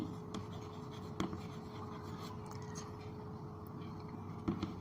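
Pen or chalk writing during a maths lesson on angles, a steady faint scratching texture running throughout with a couple of brief taps, over a low room hum.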